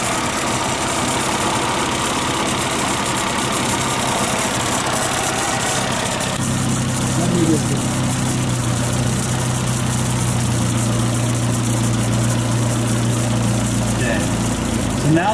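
A 1.3L Suzuki Samurai engine idles steadily nearby, a continuous loud mid-pitched rumble as the carburetor idle is adjusted, its tone shifting partway through.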